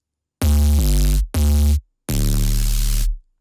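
Serum synth bass run through diode distortion and an OTT compressor, three loud sustained gritty notes with abrupt starts and stops and brief silences between, heard alone with no voices.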